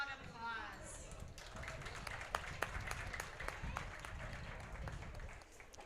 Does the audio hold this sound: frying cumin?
no